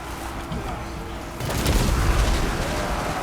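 Holok artillery shells burst in a Total War Warhammer 2 battle between Warriors of Chaos and Empire, a sudden broad booming blast kicking in partway through and rumbling on loudly over a din of battle noise.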